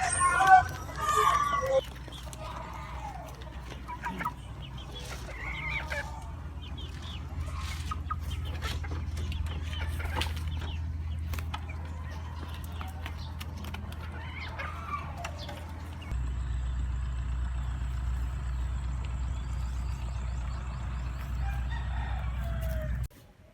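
Chickens cluck and a rooster crows around a small backyard flock raised for income, the calls scattered and fairly close over a steady low hum and continuous background noise.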